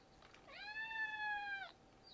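A cat gives a single clear, drawn-out meow lasting about a second, fairly close and alone against quiet room tone, preceded by a faint short chirp.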